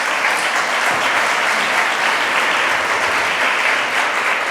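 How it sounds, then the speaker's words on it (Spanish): An audience claps for a panelist taking the stage at a talk, a steady, loud, dense applause that runs unbroken through the clip. "un aplauso para ella"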